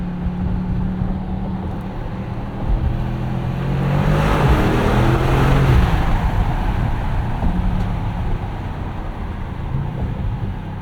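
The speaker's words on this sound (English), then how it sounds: "some noise. Nothing really too throaty, which a little bit of a letdown with this being an AMG Mercedes" A 2025 Mercedes-AMG GLE 63S with a 603 hp biturbo V8 drives along, its engine and induction making a steady, moderate rumble that swells to a broader roar midway before settling back.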